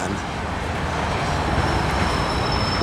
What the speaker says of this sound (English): Here comes the rear of this ethanol train.